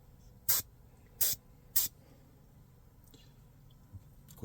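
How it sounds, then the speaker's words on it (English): An airbrush sprays gold paint onto miniature Marine armor at about 30 psi, giving three short, sharp hissing bursts in quick succession, followed by a couple of fainter puffs. "I'm spraying at a higher pressure, yes, about 30 pounds"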